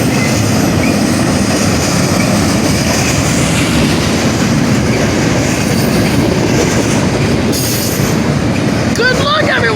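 A train rolls past on railroad tracks at an Ohio crossing, a loud, continuous rumble with clattering wheels close by for the whole stretch, ending in a brief squeal.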